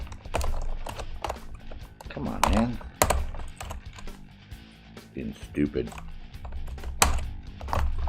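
Rapid, uneven clatter of keys on a computer keyboard in a live gaming stream, with bursts of loud clacks near the microphone while someone talks over them.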